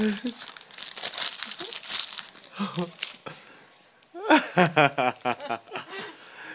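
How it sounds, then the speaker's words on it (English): Gift wrapping paper crinkles and tears in bursts up close, rustling loudly at first, then a pause before more crackling, with soft chuckles and voices around it. "She loves the wrapping paper you got."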